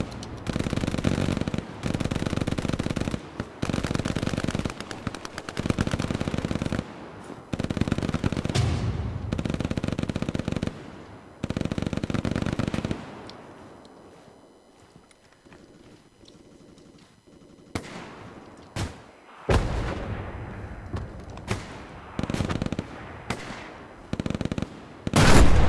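Bursts of machine gun fire in the World War II shooter game Hell Let Loose, loud repeated rattling volleys separated by short gaps, with a quieter stretch midway before sharper single shots and short bursts return.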